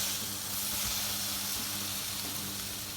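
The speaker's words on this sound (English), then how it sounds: "that's frying up nicely to a nice omelette" An omelette fries in a compact pan at a motorcycle campsite, a soft continuous hiss over a low steady hum from the camp stove, close and even throughout.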